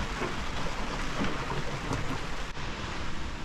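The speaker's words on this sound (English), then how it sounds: "Quite a lot of rain around." Heavy rain falls steadily at sea on an offshore sailing passage into heavy weather, a dense, even hiss with a low rumble beneath it and no voices.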